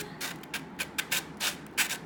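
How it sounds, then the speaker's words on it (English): Quick rhythmic scratchy strokes of sandpaper rubbing back and forth over hard resin, close and fairly quiet, about eight strokes. "just keep sanding it back and forth to get it nice and smooth"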